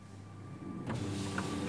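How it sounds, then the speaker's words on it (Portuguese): Electric power window lowering in a 2016 Chevrolet Onix, a short close motor whir that steps up in strength partway through, with low cabin hum beneath. "Baixou o vidro."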